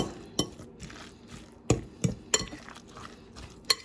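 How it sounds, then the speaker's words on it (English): A spoon stirs salmon croquette mixture with jalapenos in a bowl, giving scattered clinks and scrapes against the dish at an irregular pace, close and fairly quiet. "So we're going to get this all stirred around here."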